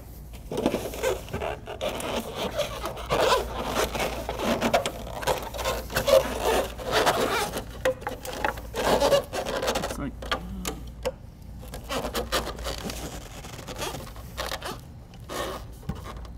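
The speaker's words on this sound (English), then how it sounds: "and then make our pop rivets" A pop rivet tool sets rivets into metal roof chimney flashing: a run of close scraping, clicking and rasping handling sounds with irregular sharp snaps. Faint voices sit partly under the work.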